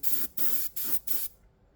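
Chrome paint sprayed straight from the bottle onto a white spoon, four short close hissing bursts separated by brief pauses, then silence.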